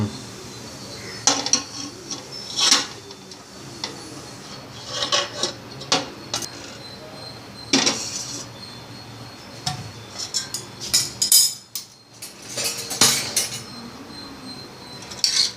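A cooking pot of milk payasam is tapped and its lid lifted off, producing scattered metallic clinks, scrapes and rattles of varying strength, close by, with quiet gaps between.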